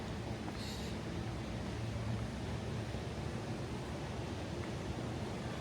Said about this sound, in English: I hear a water feature.